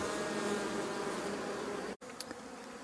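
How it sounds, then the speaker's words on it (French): A honeybee swarm in grass during swarming season, a faint, continuous droning hum from many bees, steady throughout with a brief dropout near the end and no talking. "Donc là, on voit dans l'herbe les abeilles."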